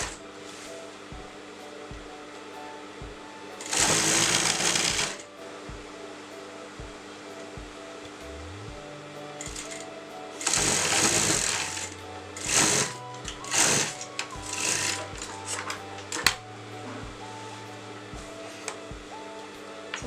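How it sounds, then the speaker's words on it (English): A sewing machine stitches the second side seam of a Patiala salwar pant, running in short separate bursts of fast whirring stitching with quiet pauses between them, close and clear. "now I'm going to sew my next side of my salwar"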